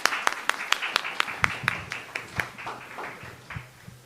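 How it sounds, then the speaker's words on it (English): Steady claps from an audience at a BBB Rohini business forum chapter meeting welcome the co-host, starting crisp and evenly spaced, then thinning and fading under a low background hum. "Please give a big round of applause to him."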